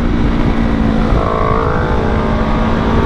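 A Honda CBR250R single-cylinder motorcycle engine revs close by, a loud, steady buzzing drone with a slight rise in pitch midway and no talking.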